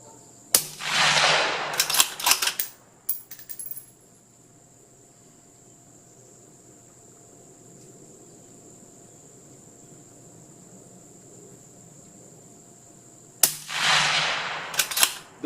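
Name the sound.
Ruger Precision Rifle shots at 50 yards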